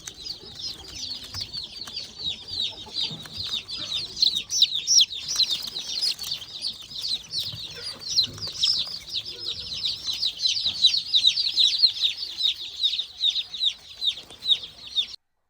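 A dense crowd of young chicks on a poultry farm peep continuously, high rapid chirps overlapping without pause, close and fairly loud, with occasional soft rustling and shuffling underneath.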